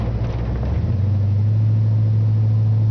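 A 1974 Cadillac Eldorado convertible's engine pulling into a parking lot, a close, loud low rumble with a steady deep hum that settles and holds.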